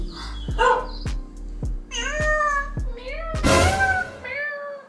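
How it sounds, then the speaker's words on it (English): A cat meows several times in quick succession, close and fairly loud, with soft tapping sounds underneath. "I hear a cat."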